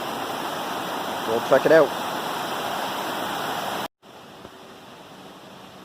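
Isinglass Falls pours out a steady, broad roar beyond a big rock on a summer river hike; someone speaks briefly over it before the sound cuts abruptly to a much quieter wash.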